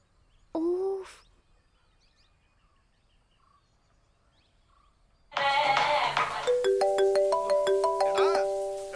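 A mobile phone rings loudly with a melodic ringtone of stepped, repeating tones that continue to the end, following a brief voice and a quiet gap.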